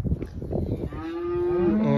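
Cattle mooing during fence-line weaning, with calves split into two adjoining open pens; shuffling noise comes first, then a loud, long, close moo rises and holds to the end with no talking.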